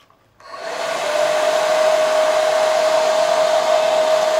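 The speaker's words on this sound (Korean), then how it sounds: "드라이기로 열을 줘요." A handheld hair dryer blows heat onto medium-length layered hair during styling, switching on after a brief silence and then running as a steady, loud, close whoosh with a constant high motor whine.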